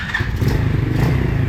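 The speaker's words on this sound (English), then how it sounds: "it ran on the starting fluid, so that's a start at least" A 125cc ATV quad engine catches on starting fluid and runs with a loud, close, rough idle that stays steady for the short clip.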